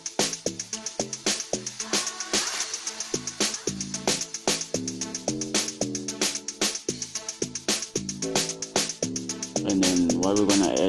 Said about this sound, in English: add our dead log drum, the strong one